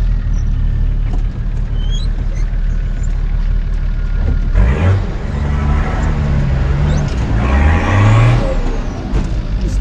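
An off-road vehicle engine revving in second gear on a rocky trail at night, a loud steady rumble that swells twice as the revs climb, close by, with no voices over it.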